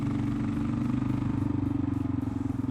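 Kawasaki KLR 650 single-cylinder engine with an aftermarket header, pulling hard in a low gear through winding roads: a loud, steady, close thumping drone whose pulses speed up slightly as the revs climb.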